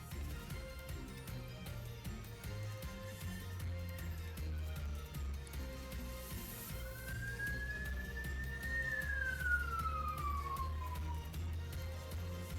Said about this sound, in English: Man, I sure do like the sound of police sirens.